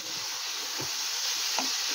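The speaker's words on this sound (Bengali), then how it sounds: "আলু খুব ভালো করে লাল লাল করে ভাজা হয়ে গেছে" Potatoes tossed with salt and turmeric fry in a pan for a Bengali jhinge aloo posto, giving a steady soft sizzle with a couple of brief stirring scrapes, close and alone.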